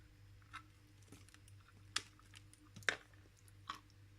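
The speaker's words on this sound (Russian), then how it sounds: "Иногда с хрустом откусывается, а иногда прям вот такими большими кусками." Crunchy edible clay being bitten and chewed close to the mic, giving a few sharp, sparse crunches and crackles over a faint steady hum, with no talking.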